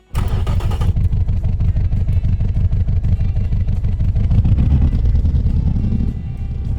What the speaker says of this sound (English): The engine does sound good.